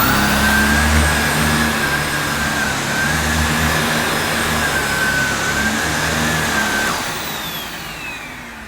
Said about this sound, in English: this is a single speed cleaner